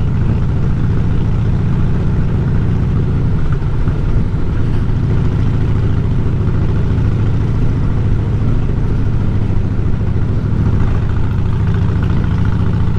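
A car engine drones steadily in first and second gear while climbing the very steep Hardknott Pass, a loud continuous low rumble that holds for the whole stretch, with no talk over it.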